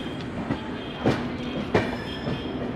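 Clickety-clack wheels of the Nanded SF Express roll over rail joints on the Amritsar to New Delhi line, with sharp periodic clicks over a continuous rolling rumble, heard from inside the moving train.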